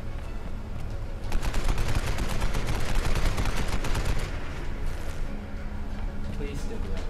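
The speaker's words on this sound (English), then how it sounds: "Is that machine gun still alive?" Sustained machine gun fire in a Tomb Raider free-for-all multiplayer match, a loud rapid stream of shots for several seconds that then tapers, with players talking throughout.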